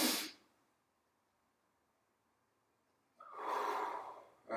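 A person takes slow, deep breaths during a beginner yoga session: an airy breath at the start, a long quiet pause, then a long drawn inhale near the end, close and alone.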